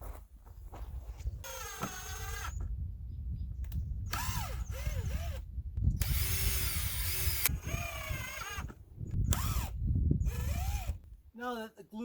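Power drill driving screws into the wooden gussets of a circular-saw tenon jig: several separate whirring bursts, each rising in pitch as the screw seats, close and loud, with a voice talking between bursts.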